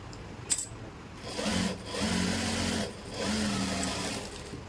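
Sewing machine stitching a double seam on a palazzo, heard as close, fairly quiet runs of rapid whirring stitching in three bursts separated by short pauses, after a small knock.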